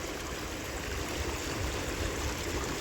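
Rushing floodwater pours steadily across an eroding rice field after heavy rain, a loud continuous broadband roar with turbulent low rumbling and no voices.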